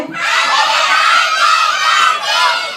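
A group of children at a birthday party shouts together in one loud, sustained burst of excited voices, lasting a few seconds with a brief dip partway through.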